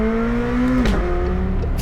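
McLaren LT sports car driving on a country route, its engine loud and close with a steady tone that rises through the revs, then drops as it shifts at about the midpoint and pulls again, with no talk.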